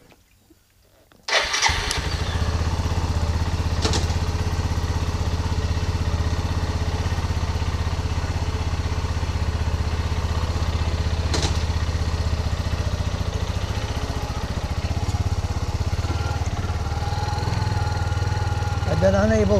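A small cyclekart engine fires up after a moment of quiet and settles into a steady, loud, close buzzing idle, revving slightly higher near the end during warm-up in a yard.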